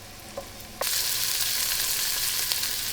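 Guanciale frying in a pan until crispy, a loud, steady close sizzle that swells suddenly and holds, with a few faint clicks before it starts.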